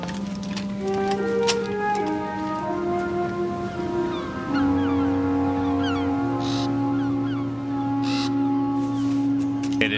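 A crow caws several times, loud and near, over a dense bed of sustained foghorn-like tones and layered musical drones from an animated seafaring scene, with no speech.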